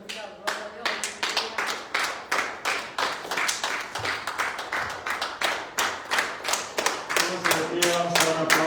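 A church congregation claps in praise to God, with a dense, rhythmic run of hand claps that stays steady and fairly close throughout, with no voices over it.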